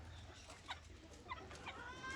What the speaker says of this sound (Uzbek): Mana xo'rozi.